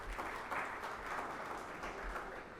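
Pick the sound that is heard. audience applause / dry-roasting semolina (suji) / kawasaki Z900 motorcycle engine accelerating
audience applause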